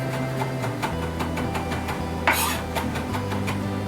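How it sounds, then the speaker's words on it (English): Fresh herbs finely chopped for a rack of lamb, a knife tapping a cutting board in a quick, even rhythm of close, crisp strikes, with one louder scrape partway through and no talking. "And then we're going to chop these up really finely."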